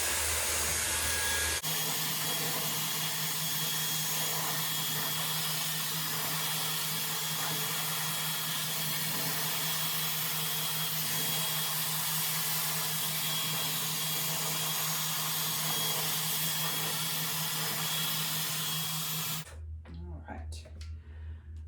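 Dyson Airwrap blowing hot air while drying a woman's hair partway, a loud, steady close whoosh with a constant hum that runs nearly the whole time and cuts off abruptly near the end.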